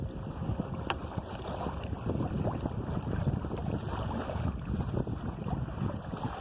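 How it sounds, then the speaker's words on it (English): Wind gusts buffet an open sailing canoe on the water, a steady broadband rush and rumble that holds at the same level throughout, close to the microphone, with no voices. "There's a gust."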